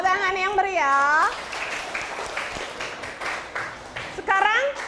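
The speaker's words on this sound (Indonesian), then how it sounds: "Tepuk tangan yang meriah." Applause from a class of students fills the room, a broad clatter of many hands sustained for a few seconds, with children's voices calling out over it at the start and end.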